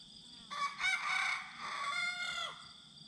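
A rooster in a weedy, overgrown chicken run gives one full, fairly close crow lasting about two seconds, with soft clucking from hens before and after it.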